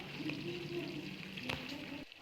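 Low, steady sizzling of spices frying in hot oil over a low flame for a tempering, a soft crackling hiss with a faint clink partway through.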